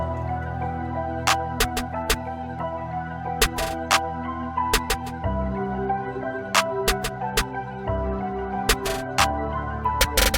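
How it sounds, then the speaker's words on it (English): A looping trap beat with sharp snare hits landing in a steady pattern, including quick rolls, over a sustained bass and synth bed. "Next, I put in my snare sound"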